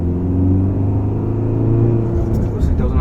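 Tata Harrier diesel SUV in city mode accelerating hard, heard from inside the cabin as a loud, steady low engine rumble for about three seconds, with a brief change near the end.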